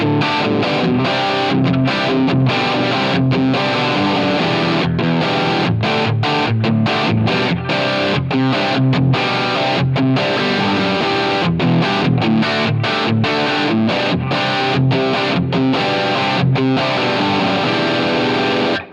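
Electric guitar run through a Gatekeeper GK-Drive overdrive pedal with drive and tone turned up, a bright, dense distorted riff played continuously and loud with rhythmic chopped strums throughout.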